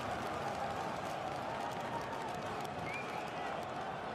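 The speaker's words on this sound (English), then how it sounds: "as he gets applause from the home crowd all over the stadium" Home crowd applauding across the stadium during a Canada v Jamaica World Cup qualifier as a substituted player leaves the pitch, dense, continuous clapping and crowd noise, distant and enveloping, with a commentator talking over it.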